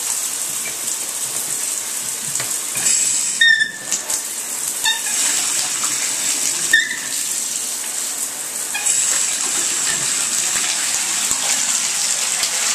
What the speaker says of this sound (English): we run some water through the shower